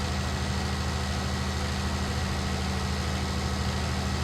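A tractor engine idles steadily in a farming video game, a loud, continuous low rumble with no break and no talking.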